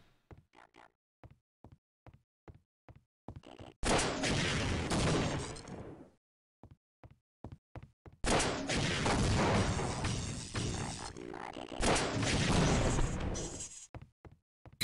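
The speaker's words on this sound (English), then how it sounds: "Rocket launcher." A rocket launcher firing in the video game Half-Life: Opposing Force, two long roaring bursts of rocket fire and explosion between sharp rapid clicking shots, loud and close.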